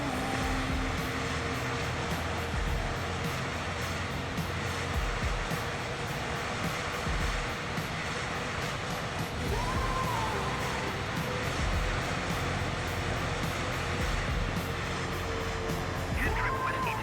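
An aircraft engine drones steadily and loudly throughout while the plane comes in to land near Jamaica, a constant propeller roar with slight tonal shifts and no pauses.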